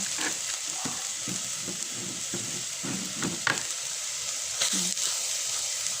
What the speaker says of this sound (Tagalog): Ilagay ko na ang bawang guys